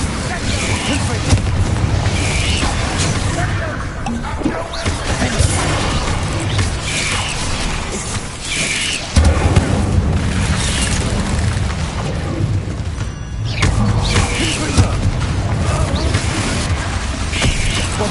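Confringo explosive spell blasts in the Hogwarts Legacy video game on PS5 boom again and again in a dense, loud, continuous barrage of game sound, with a voice calling out now and then.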